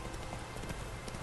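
Roach, a horse in Witcher 3, trots along with a steady, continuous clip-clop of hooves, fairly quiet and even, over a dense background bed with no talk.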